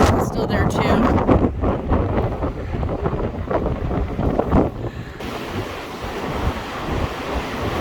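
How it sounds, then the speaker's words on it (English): Strong wind gusts of about 60 mph buffet a walipini greenhouse, roaring and rushing loudly into the microphone in surging waves, with voices briefly audible under the noise. "60-mile-an-hour gusts"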